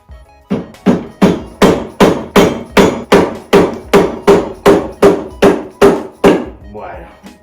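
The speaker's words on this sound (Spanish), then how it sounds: "Vamos a darle con un destornillador un poquito hasta coger uno mayor" A rusty kart axle is driven out by hammering on a screwdriver, about fifteen loud, evenly spaced metallic blows in quick succession, close up, followed by a brief softer sound at the end.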